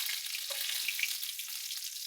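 Garlic sizzling in hot oil in a kadhai, a steady bright crackling hiss with small pops, continuous and close, no talking.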